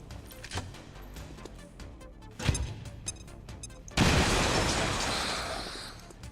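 A grenade blast in the XCOM 2 video game hits with a sudden loud burst after a few sharper thuds and clicks, then a wide roaring rumble that slowly fades.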